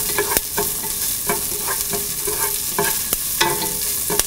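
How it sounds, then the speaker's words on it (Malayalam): Moringa leaves and dried red chillies sauté in a hot pan for a curry, with a constant crackling sizzle and a few sharp clicks as the leaves get stirred, up close and with no voices. "ഇതിലോട്ട് നമ്മൾ എടുത്തു വച്ചിരിക്കുന്ന മുരിങ്ങയിലിട്ട് നന്നായിട്ട് വഴറ്റുക."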